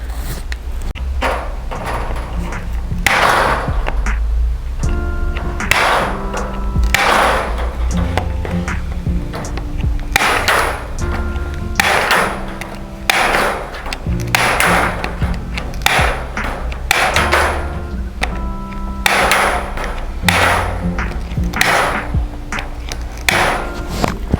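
Steel reinforcement mesh being cut and fitted in a garage: repeated sharp metallic clanks and ringing taps at irregular intervals, close and loud, with rattles of wire between strikes.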